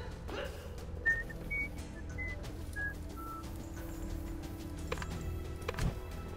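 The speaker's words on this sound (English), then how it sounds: "It was whistling." Short whistle-like tones chirp several times in a Blade and Soul game session, brief and fairly faint over a steady low hum, with no talking.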